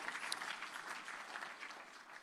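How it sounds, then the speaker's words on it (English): Audience at a G20 agricultural chief scientists meeting applauding dignitaries, a brief steady burst of many hands clapping in a hall. "A round of applause once again for our dignitaries."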